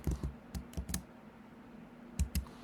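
Python code is typed on a computer keyboard in short bursts of crisp, close key clicks separated by a quiet pause, with no talking.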